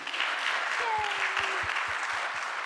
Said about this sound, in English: I just want to give a big round of applause for these awesome humans.